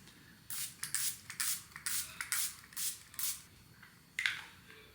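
A makeup setting spray mists repeatedly during a summer makeup routine, giving about eight quick, close hissing spritzes in a steady rhythm, each a short airy burst, with a final spray after a brief pause and no talking.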